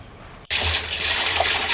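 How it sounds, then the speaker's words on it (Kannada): Water gushes suddenly into a barrel in an arecanut plantation, where a Bordeaux spray mixture of copper sulphate and lime is being prepared. After a brief quiet moment a loud, steady rushing pour continues close by. "ಈಗ ನಾವು ಬ್ಯಾರಲ್ಗೆ ನೀರು ಹಾಕ್ತಾ ಇದ್ದೇವೆ."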